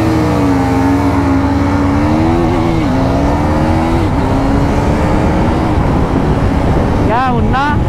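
A KTM RC 390 motorcycle racing on a track with traction control off, engine pitch climbing steadily through the gears, then a burst of rapid revving near the end, loud and close alongside other engine noise.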